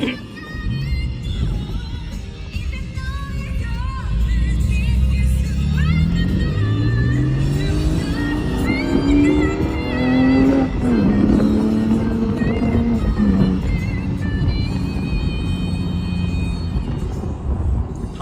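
Porsche 982 718 Boxster GTS 4.0 with a six-speed manual, driven with the top down: loud close flat-six engine, rising and falling through revs and gear changes, a steady rumble with wind, no talk.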